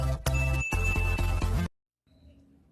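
A bright bell-icon notification jingle plays loud and alone for about a second and a half with a sustained ringing tone, then cuts to silence before a faint low background hum.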